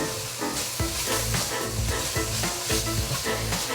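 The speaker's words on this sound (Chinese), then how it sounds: "一直持續的翻炒，看看香菇的熟成度。" Shiitake mushrooms stir-fried in oil in a pan give a loud, steady sizzle and hiss, broken by repeated scraping stirs of the spatula, with no voices.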